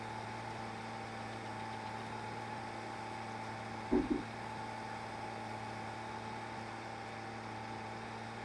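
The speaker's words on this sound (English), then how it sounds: "I love the sounds on this tractor. Caceres Modding's Magnum." A Magnum row-crop tractor engine in Farming Simulator 22 idles with a steady, droning mechanical hum, broken by a brief knock near the middle.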